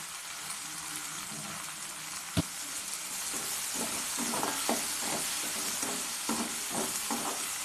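Shallots and asafoetida sautéing in a pan make a continuous close sizzle, with soft rhythmic scrapes of a spatula stirring through the latter half and one sharp knock.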